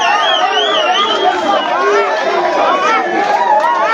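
A crowd at a pool competition fills the room with loud, animated chatter and excited voices, many people talking and calling out at once in a dense, continuous din.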